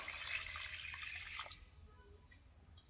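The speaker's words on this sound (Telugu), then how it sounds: "క్యారెట్ కడుక్కోవాలి" Carrots being rinsed under running tap water in a home kitchen sink for a carrot pakoda, a steady splashing flow that thins out and fades partway through, ending with a faint clink.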